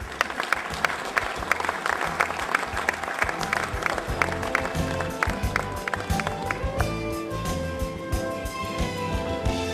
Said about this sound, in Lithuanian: Taigi dar kartą sveikiname ir palydėkime plojimais.